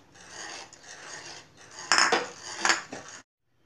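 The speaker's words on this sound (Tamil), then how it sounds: "ஸ்லோ ஃப்ளேமில் இதே மாதிரி கிளறிட்டே இருங்க." A utensil scrapes and clinks against a pan while milk for fruit custard is stirred over a low flame, with steady rasping strokes and two louder scrapes near the end, then silence.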